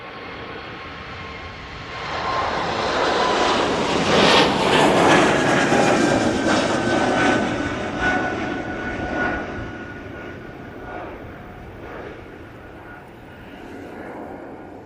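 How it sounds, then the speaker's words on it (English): A Swiss Airbus A380 departs Manchester Airport for Zurich, its jet engines rising from a steady rumble to a loud, rough roar with a whining tone before slowly fading into the distance. "Swiss A380 on its way back to Zurich"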